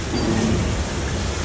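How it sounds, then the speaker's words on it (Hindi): Dense, steady hiss of heavy monsoon rain pouring down in Mumbai, loud and continuous with a low rumble beneath it. "बारिश आ रही है बहुत तेज"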